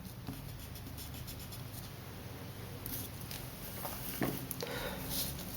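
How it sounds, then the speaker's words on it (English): Quiet pencil eraser rubbing across paper while finishing a Mega Man helmet drawing, a soft continuous scratchy friction with a few brief stronger strokes near the end. "I can come here and erase out the rest of that circle that I no longer need"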